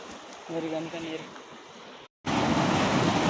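Water gushes from a drainage outlet beside a farm field, a steady broadband rush. Brief humming tones sit underneath early on, then after a short gap the rush returns louder and closer.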